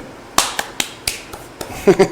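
About half a dozen sharp, distinct hand claps spaced unevenly and close by mark a sign-off at the end of a talk show episode, followed by a brief voiced sound.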